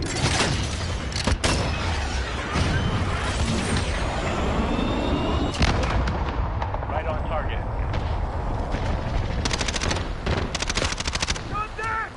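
Intense combat in Call of Duty: Modern Warfare, dense rapid gunfire and heavy explosive blasts from a called-in artillery strike rolling continuously, with a person talking over the barrage.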